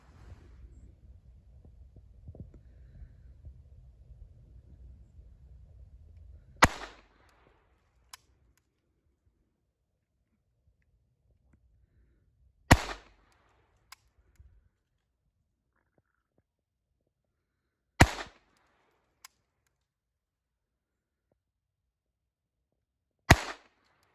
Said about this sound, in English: we're out here with the Ruger SR22, and we're gonna try some more shooting at 15 yards